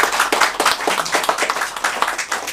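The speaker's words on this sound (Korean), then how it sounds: "박수 한번 보내주시기 바랍니다." Audience clapping at a Korean lecture event, a crowd applauding with a fairly dense, slightly uneven rhythm of claps close by, rising and falling in brief pulses.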